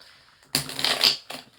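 Tarot cards are shuffled close by in one brief, papery riffling burst, followed by a shorter, softer flutter of cards.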